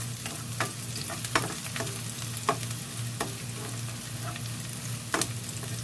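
Chicken curry frying and being stirred in a pan for a creamy chicken curry, a steady sizzle with occasional sharp clinks and scrapes of a utensil, close and fairly quiet, no talking.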